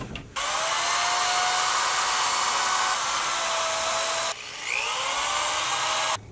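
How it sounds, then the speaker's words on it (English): A power drill bores holes through a wooden block for setting the strings of a handmade Go board, a loud steady whine that runs for several seconds, stops briefly, then spins up again. "So I'm going to go ahead and do that with the power drill"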